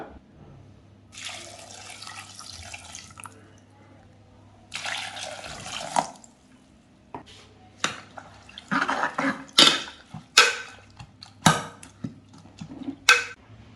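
Water pours in two short gushes into a pot of drumstick leaf soup, followed by clinks and knocks of utensils against metal, close up and without talking.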